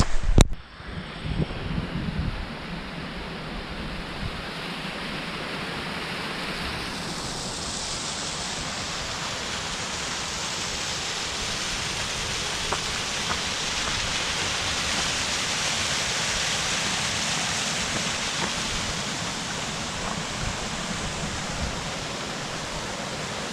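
Steady rushing roar of a waterfall on a hillside walk near Llyn y Fan in the Brecon Beacons, broadband and continuous for the whole stretch, with a brief knock of handling noise at the start and no one speaking.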